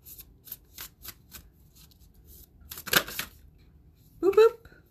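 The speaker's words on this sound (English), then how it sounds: "So, how about we pull a card?" A deck of cards is shuffled with a rapid series of crisp riffles and a louder flurry, close by, followed by a brief voice.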